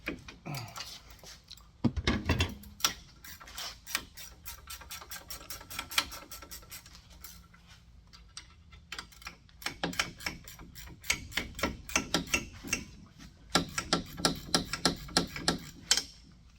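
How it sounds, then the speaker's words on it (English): A Ryobi 3/8-inch impact wrench removes bolts during a wheel bearing job on a 2005-2012 Chevy Impala. Rapid, close hammering rattles come in repeated bursts, with brief pauses between runs. "This is the new 3/8 impact that I just got."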